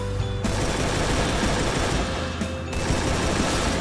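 Rapid automatic gunfire from the video game Free Fire rattles loudly and continuously, with a brief break in the middle before the shooting resumes.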